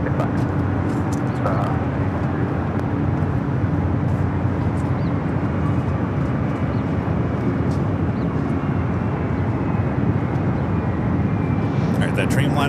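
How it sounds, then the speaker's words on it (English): A United Airlines Boeing 787 Dreamliner takes off on runway 25R at Los Angeles International Airport, a sustained, powerful jet roar heard from some distance beneath ongoing talk. "that Dreamliner on the south, now rolling down the 25 right"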